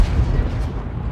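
A tank cannon booms in World of Tanks, a loud low-heavy blast that rumbles on through the short moment with no speech over it.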